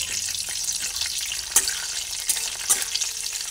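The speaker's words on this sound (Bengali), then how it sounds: "তেজপাতা আর কালো জিরে একসঙ্গে একটু ভেজে নিচ্ছি" Bay leaves and nigella seeds fry together in a little hot oil, making a soft, steady crackling sizzle with a few sharp spatula clicks, heard close up and alone.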